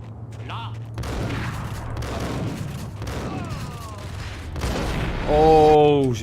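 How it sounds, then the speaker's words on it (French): Gunfire from a shooter across the street in the Max Payne video game crackles in repeated shots and bursts, mixed with other loud in-game effects over several seconds. "Un mec de l'autre côté de la rue qui me tire dessus"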